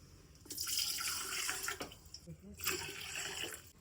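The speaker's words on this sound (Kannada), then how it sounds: "ಈಗ ಒಂದೂವರೆ ಪಾವು ಅಕ್ಕಿಗೆ ಈ ಗ್ಲಾಸಲ್ಲಿ ಮೂರು ಗ್ಲಾಸ್ ನೀರು ತಗೊಳ್ತಾ ಇದ್ದೀನಿ ನಾನು" Three glasses of water are poured into a pot for cooking rice, heard as two close splashing pours with a short pause between them. No one talks over the sound.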